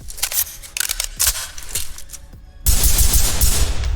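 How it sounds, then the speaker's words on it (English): A rifle fires single shots at a target in the tactical shooter Ready or Not, several sharp separate cracks spaced out, then a louder, denser burst of gunfire that fills the last stretch. "we're gonna go ahead and do some single fire at this target here"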